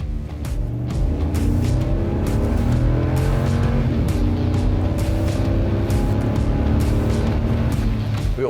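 A V8 engine growls as it accelerates, a loud, deep, continuous roar with rising harmonics and repeated shifts in pitch, heard on its own with no talk.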